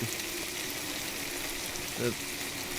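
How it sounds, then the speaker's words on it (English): A steady, even sizzle of food frying in the fishing horror game Umigari hisses throughout, with a brief low tone rising near the end. "The frying noise is just loud in this game"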